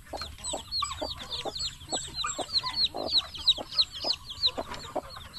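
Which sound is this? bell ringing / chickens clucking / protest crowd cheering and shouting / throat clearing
chickens clucking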